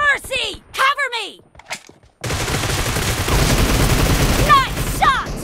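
Shooter video game gunfire: a sustained burst of rapid automatic shots fills the middle, loud and dense, preceded and followed by excited voices and game callouts.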